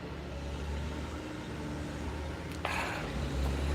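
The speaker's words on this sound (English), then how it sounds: "So all the noise that you hear are giant trucks going by because they're in the oversized lot as well." Giant trucks rolling past in a ferry terminal's oversized-vehicle lot: a continuous low engine rumble and road noise, with a sharper passing swell near the end, close and steady.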